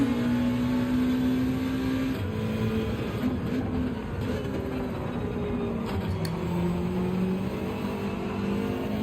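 Porsche race car engine in the Gran Turismo 7 racing video game, a steady mid-level drone whose pitch rises and falls with gear changes, heard alone with no voices.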